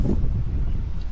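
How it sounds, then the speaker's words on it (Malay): Strong wind blowing outdoors as a steady, loud, low roar and buffeting across the microphone, with no clear voice over it. "Angin sangat kuat."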